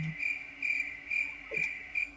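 Crickets chirping as a sound effect, a steady high trill pulsing in regular bursts about every half second, close and clear with no voices.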